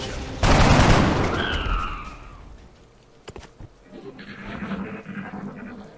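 Gunfire in the video game XCOM: Enemy Unknown opens with a loud, dense burst of shots that decays over a couple of seconds, followed by quieter scattered in-game effects.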